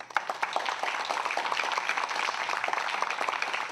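An audience at a disaster prevention forum applauds to welcome a congressman, a steady wash of many hands clapping that holds at an even, moderate level from start to finish with no voices.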